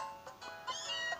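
A cat meows in the Pokémon Moon video game, a couple of short mid-pitched meows spread over about a second over a faint steady musical background.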